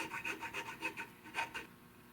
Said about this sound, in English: Now I'm going to take a file. This is a 5/32 round chainsaw file